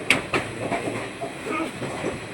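A crowded Mumbai local train runs toward Dadar, close and moderately loud, with a couple of sharp rail clacks at the start and then a continuous rumble and rattle of wheels on track, with faint voices in the background.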